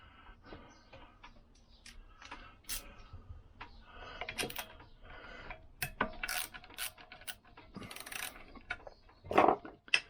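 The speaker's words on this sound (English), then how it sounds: "I'm going to have to use the socket ratchet." A socket ratchet loosens a bolt on a Lambretta scooter, sounding as irregular light clicks and metallic taps, close but quiet, with a sharper clatter near the end and no talking.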